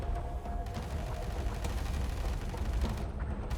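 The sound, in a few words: artillery bombardment in the video game Tom Clancy's EndWar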